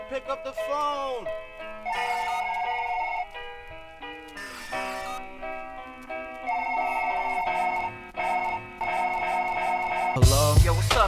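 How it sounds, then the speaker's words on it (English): A telephone rings repeatedly within a hip-hop song, an electronic ring tone recurring in bursts between pauses over the music, with a voice briefly in the mix. "Somebody pick up the phone."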